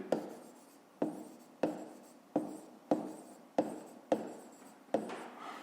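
Pen strokes writing numbers by hand on paper during a maths exercise, a steady series of about nine short scratchy bursts, each starting sharply and trailing off, close and quiet with no talk.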